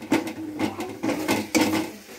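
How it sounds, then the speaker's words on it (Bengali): Chicken pieces stirred with salt in a pan, giving repeated scraping and clattering strokes in an uneven rhythm, close and moderately loud with no voices. "আমি লবণটা দিয়ে কি সুন্দর নাড়াচাড়া করে নিচ্ছি"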